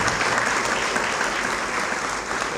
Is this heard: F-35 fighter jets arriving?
no